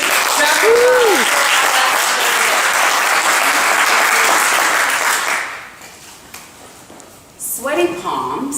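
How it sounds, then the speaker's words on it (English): Loud, sustained applause from a crowd fills most of the clip, then fades out before a voice starts speaking. "Please give a huge round of applause."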